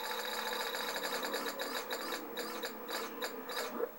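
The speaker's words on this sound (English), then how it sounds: "spin the wheel and see how much" Prize wheel spinning in a Let's Make a Deal DVD game: a steady stream of rapid ratcheting clicks from the pegs, slowing into spaced ticks near the end, close and loud with no talking.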